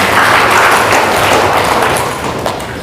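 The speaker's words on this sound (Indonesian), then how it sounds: "Tepuk tangan untuk kita semuanya." Audience applause at a Taman Siswa gathering, a dense, loud wash of many hands clapping that fills the hall and gradually fades toward the end.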